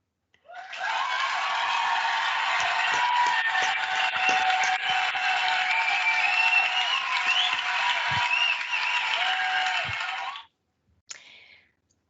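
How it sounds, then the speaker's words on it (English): Applause at an online award ceremony for a digital econometrics competition, a dense, even wash of clapping that fades in and holds for about ten seconds before cutting off, with a few faint clicks after. "So a big round of applause."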